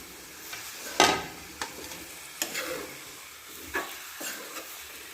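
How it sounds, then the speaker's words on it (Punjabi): Potatoes cook in a pan for aloo baingan sabzi with a low sizzle, broken by scattered stirring scrapes and knocks, one louder than the rest. "ਆਪਾਂ ਆਲੂਆਂ ਨੂੰ ਪਹਿਲਾਂ ਪਕਾ ਕੇ 5 ਮਿੰਟ ਰੱਖਾਂਗੇ"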